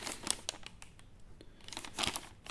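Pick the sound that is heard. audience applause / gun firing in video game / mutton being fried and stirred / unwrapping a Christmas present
unwrapping a Christmas present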